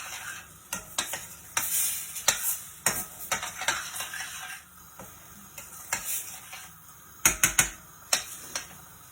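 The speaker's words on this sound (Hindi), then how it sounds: "और आलू मिक्स कर दै छियै" Potatoes stirred into vegetables frying in a pan for a Maithili godla recipe, with repeated clinks and scrapes of a spoon against the pan over a steady sizzle, the strokes uneven and close.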